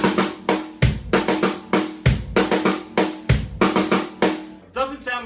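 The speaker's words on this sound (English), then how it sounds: "just add a bass drum in front of it and kind of offset the whole Herta by a 16th note" Drum kit Herta pattern with a bass drum kick added before each three-note group and shifted by a sixteenth note, crisp close hits and low thumps in a steady loop, ending with a brief voice.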